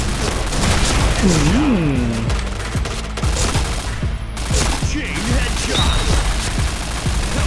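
Gunfire in the video game Point Blank, with an MP7 in a Downtown match: loud, close bursts of rapid shots with heavy booms, while someone talks excitedly over much of it.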